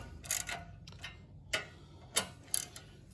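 Close, sharp ratchet clicks as exhaust bolts are tightened on a Harley touring motorcycle while a slip-on exhaust is fitted, coming in a few spaced, irregular bursts with quiet between them.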